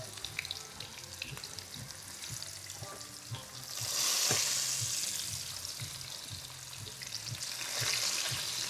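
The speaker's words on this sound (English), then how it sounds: "You hear that sizzle? That's what you want to hear when you're pan searing this." Steady sizzling of cassava pan-searing in a hot pan, crackling continuously with occasional stirring scrapes, close up and without any talking.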